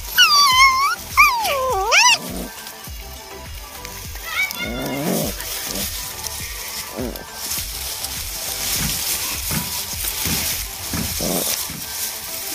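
Puppies play and whimper inside a dog house, with high, wavering whines and yelps in the opening seconds, then softer scuffling and rustling. Faint voices are also present.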